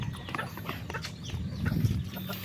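Four-month-old Gold Shamo pullets being fed on a farm in Tabango, Leyte, clucking and murmuring close by in a busy, overlapping flock chatter.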